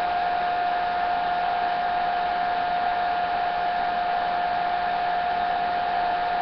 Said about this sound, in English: it's going to get a little loud when I use the blow dryer